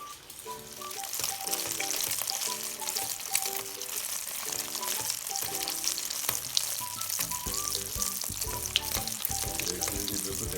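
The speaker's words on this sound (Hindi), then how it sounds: "इसको डीप फ्राई ही करना है" Phool shami kabab tikki patties deep fry in hot oil, a steady close sizzle and bubbling crackle running throughout, with background music playing over the frying and no talk.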